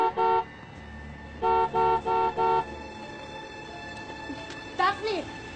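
Someone's car arrives with a vehicle hum, then sounds a series of short horn toots in two bursts and a final honk, while a voice speaks briefly.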